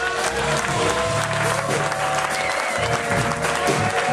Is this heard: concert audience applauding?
yes